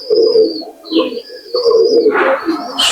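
A male Chinese teddy pigeon coos close by, a loud run of low throaty rolling calls in a few bursts with short pauses between them.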